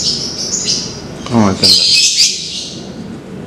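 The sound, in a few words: lovebird chirping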